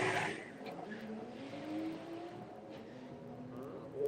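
A Corsa drag racing car making a run at a drag strip, engine droning and rising in pitch as it pulls away, fairly distant and faint with crowd or commentary noise faintly behind.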